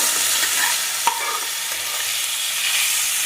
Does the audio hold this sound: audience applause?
no